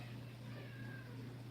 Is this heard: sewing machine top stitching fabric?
no